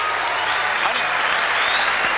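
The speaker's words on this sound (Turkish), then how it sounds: "iyi kötü seyirciden bu kadar alkış almış" Studio audience applause on a Turkish TV talent show, a dense, steady wash of clapping filling the whole short stretch at close, even loudness.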